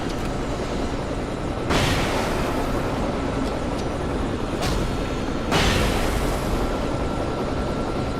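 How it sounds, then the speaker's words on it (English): Helicopter in the video game Alan Wake, a loud, steady rotor roar that fills the scene, with a few brief bursts rising over it. "Do you like the sound design of the helicopter?"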